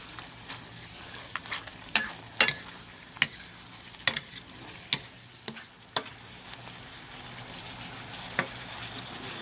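Tofu stir-fried with seasonings in a pan gives a steady sizzle and frying hiss, broken by irregular sharp clicks and taps of the spatula against the pan, close by and moderately quiet.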